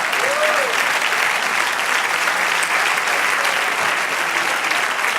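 A church congregation applauds steadily and loudly throughout, a dense continuous clapping with no break and no speech over it.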